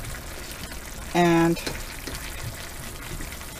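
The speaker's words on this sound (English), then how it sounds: "just going to add a little water to let them steam a little bit" Water poured into a pan of simmering golden beets, giving a soft splashing pour over a steady background hiss, with a single spoken word.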